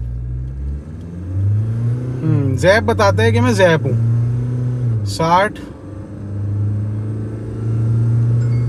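A Mahindra Scorpio-N SUV engine hums steadily and builds in revs accelerating hard from standstill to 100, with someone speaking briefly over the low drone.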